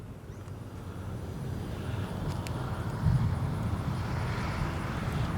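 A Durafly FG-1 Corsair RC model warbird on a 4S battery flies at a distance, its motor a steady droning whine under wind noise, swelling slightly midway as it passes.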